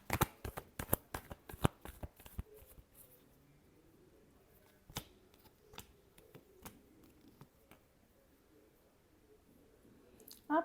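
A deck of tarot cards is shuffled close by in a rapid flurry of crisp riffles and snaps, then slower scattered flicks and soft handling, ending with one more brief riffle.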